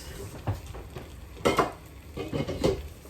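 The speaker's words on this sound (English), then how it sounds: "So stir to combine all that" Spoon stirring mushroom parmesan risotto in a pan: soft scraping and thick, wet stirring strokes with a faint sizzle, close and moderately quiet.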